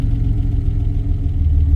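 A freshly rebuilt car engine idles on its first road-test outing, a loud, close, steady low rumble with an even throbbing pulse and no voices.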